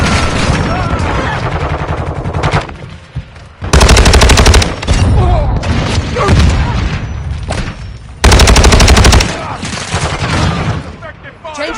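Loud bursts of automatic rifle fire from Call of Duty Modern Warfare 2 during a Hardpoint match, two heavy sustained volleys standing out amid constant battle noise, scattered shots and shouted squad callouts.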